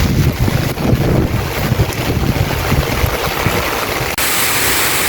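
Strong wind gusts roar and buffet the microphone on a rainy farm, a dense continuous rush with a brief dropout near the end, loud and steady.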